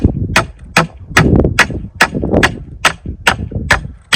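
Sharp metallic taps on a metal bar being set in place while building a fast wall beside a poly tunnel, about ten crisp strikes in a steady rhythm, close and loud, over low background rumble.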